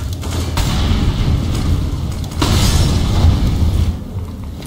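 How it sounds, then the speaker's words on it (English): Grenade explosions in Counter-Strike on the map Train during a DreamHack Valencia 2017 match, with two heavy booms rumbling through dense, loud crowd and game noise. "Lots of grenades being exchanged towards Ivy."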